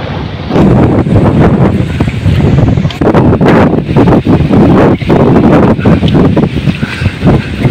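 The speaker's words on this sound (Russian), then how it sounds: "Мало того, что ветер, так еще и камни под ногами." Strong wind blasts across a stony beach by the water, roaring loudly and continuously into the microphone with gusting rumble throughout.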